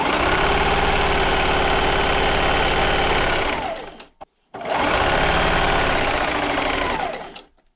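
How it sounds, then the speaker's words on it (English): A sewing machine stitches 2 1/2 inch fabric strips for a table runner, running in a steady fast whir, pausing briefly, then starting again at the same even pace, close and loud. "and just keep sewing"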